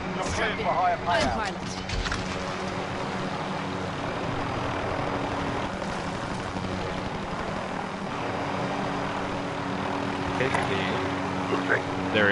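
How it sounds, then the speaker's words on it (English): A helicopter in a PS4 video game drones steadily throughout with a continuous rotor and engine hum, while voices talk over it. "there's a helicopter just there"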